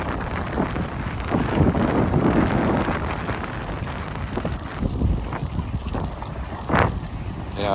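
Wind buffeting the microphone over choppy lake water around a kayak, a steady loud rush with gusts and splashing that rise and fall throughout.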